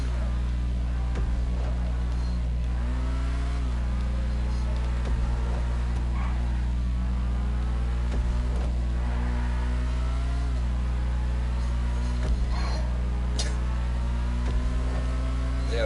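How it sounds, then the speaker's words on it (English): A car engine revving inside GTA Online, rising and falling in pitch through repeated surges over a steady low drone. It sounds close and continuous, with occasional sharp clicks and no talking. "Yeah, this car's engine sounds really good."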